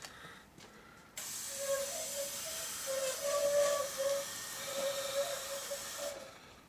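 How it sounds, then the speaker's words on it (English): A parking lot line painting sprayer releases a burst of paint: a sudden steady spray hiss starts after a brief quiet, holds for about five seconds with a faint tonal whine, then cuts off. "Go ahead, Vinny. Give it a squirt."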